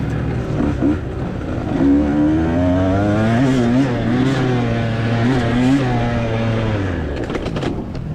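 A two-stroke dirt bike in an off-road race at Zars Ranch, Texas, screams loud and close, its engine pitch climbing and dipping through repeated revs and shifts for several seconds before easing off near the end.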